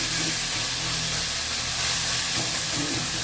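Fenugreek seeds sauté in a pan, giving off a loud, continuous, close sizzle with no pauses.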